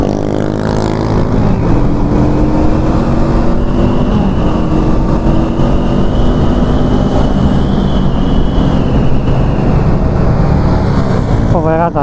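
A 2023 Honda CL500 Euro5 motorcycle engine drones loudly and steadily under riding, with wind rush and a slowly shifting pitch as the bike cruises along.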